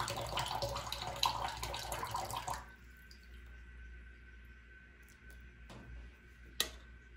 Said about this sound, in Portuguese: Vou colocar 2 colherzinhas de água.